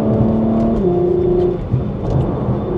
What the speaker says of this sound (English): And that whistle, by the way, that's one of my action cams on the outside of the car.